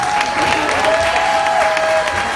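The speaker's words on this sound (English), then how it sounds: "Round of applause for my grandma and my parents." Audience at a book release gives steady applause, with dense clapping filling the short stretch at an even level and a faint tonal whistle running through it.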